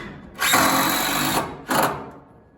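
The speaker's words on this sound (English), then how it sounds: "After it's plumbed, Dakota will go ahead and fasten it to the other wall." A power tool drives fasteners into interior wall framing, with one long whirring burst of about a second followed by a shorter second burst, close and loud.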